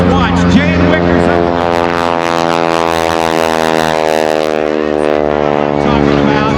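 Jane Wicker's aerobatic airplane at the 2013 Sun 'n Fun air show, a loud steady propeller engine drone that holds strong throughout, its pitch sliding gradually as the plane maneuvers.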